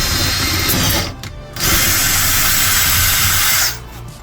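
A power drill with no bit fitted whirs at high speed, briefly cuts out for about half a second, then spins up again and runs before stopping.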